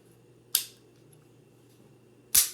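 Two sharp, isolated clicks of a pistol being dry fired, a Glock or Springfield XD during cleaning, spaced almost two seconds apart and close up, with only quiet room hum around them.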